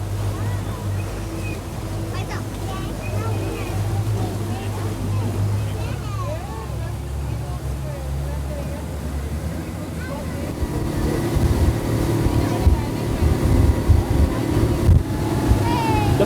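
A fast tour boat runs through the Langkawi mangroves in Malaysia, its steady engine drone and water rush continuous throughout, growing louder and rougher in the last few seconds, with people talking faintly under it.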